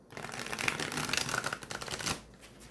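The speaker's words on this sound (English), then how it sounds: "So overhand once." Tarot cards are shuffled overhand in a quick, continuous riffle of papery flicks and taps, steady and close for about two seconds before trailing off.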